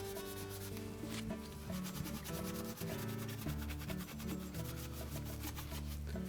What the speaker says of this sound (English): with a piece of Scotch pad, we'll just remove any of the soap and crud buildup on it